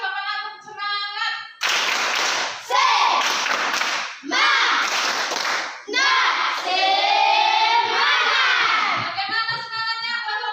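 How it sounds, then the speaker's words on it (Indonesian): Year 8A pupils in a classroom clap out a rhythmic spirit cheer, with bursts of sharp, close, loud group claps mixed with children's chanting and shouting voices. "Oke, ulang sekali lagi kelas 8A,"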